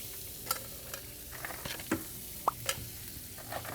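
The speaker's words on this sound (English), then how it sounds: "I'm gonna put a little bit of butter down and start browning up my jalapenos" Chopped jalapenos brown in butter on a flat griddle, a low, steady sizzle with a few sharp scrapes and pops standing out.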